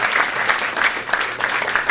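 An audience at a keynote lecture on the construction of a bank building claps for the engineer who just spoke, producing loud, close, steady applause with some individual claps standing out.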